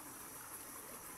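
Rushing stream water swollen after heavy rain, a steady broadband wash that stays even and close throughout with no voices over it.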